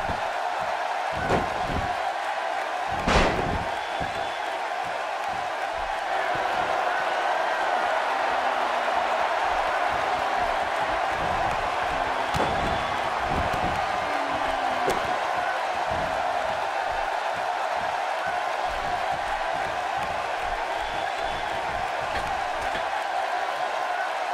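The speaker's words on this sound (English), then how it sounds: "you could tell that this crowd is shocked to see her losing in such a definitive manner right now" Arena crowd in a WWE 2K18 Monday Night RAW tag match, a steady murmuring roar under commentary talk, with a few sharp slams standing out early.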